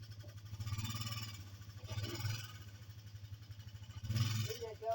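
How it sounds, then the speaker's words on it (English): A quad bike engine runs steadily close by with a low, throbbing drone that rises and falls slightly. "Still hearing the quad. There's the quad."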